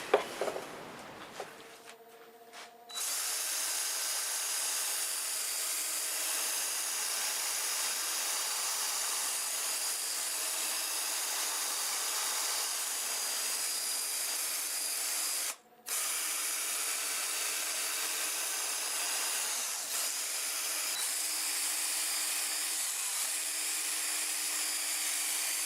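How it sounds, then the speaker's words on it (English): Wild cherry spinning on a 1221 wood turning lathe running in reverse at about 400 RPM while being sanded with 240 grit paper, a steady close whirring hum with a ratchety texture that runs almost unbroken, briefly cutting out once midway. "240 grit, and I will sand in reverse at about 400 RPM"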